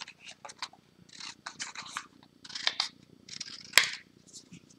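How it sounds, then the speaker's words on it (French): Scissors snip through paper card along drawn lines, a quick series of close, crisp cuts in irregular clusters, with a sharp click near the end. "Hop, on coupe suivant nos traits."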